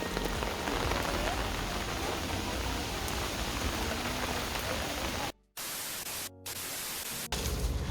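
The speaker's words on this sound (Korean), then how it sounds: "오늘도 비 온다고" Steady, dense rain hisses and patters on surfaces during a rainy-day trip to Gyeongju, loud and continuous, with two brief cut-outs near the end.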